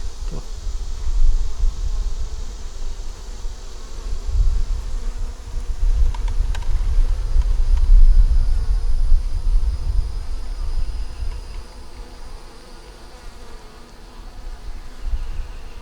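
Many honeybees buzz steadily in a dense, low drone around a beehive frame with wax moth damage, close by and continuous, swelling and fading slightly over time.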